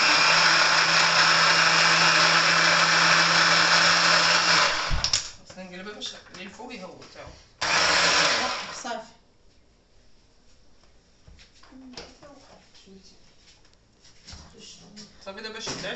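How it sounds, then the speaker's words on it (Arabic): Kitchen blender grinding cilantro and parsley for a Moroccan oven-baked salmon dish, a loud whirring roar for several seconds, cutting off, then a second short burst, followed by quieter clatter and handling sounds. "وانا كنطحن في القزبر ومعدنوس، نطحنو باش نديرو مع هادشي هنايا"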